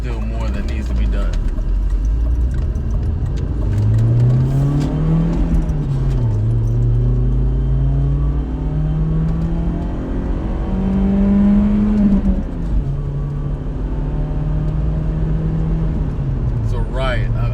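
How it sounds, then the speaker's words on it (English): Turbocharged car engine revving repeatedly, pitch climbing and falling in several rising sweeps over a loud rumbling drone, close to the listener, with people talking over it. "Like you could rev it all the way out."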